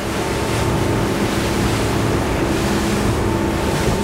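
A 2021 Nimbus T9X motor boat cuts through waves offshore in rising wind, giving a loud, continuous rush of water and wind with a steady engine drone underneath.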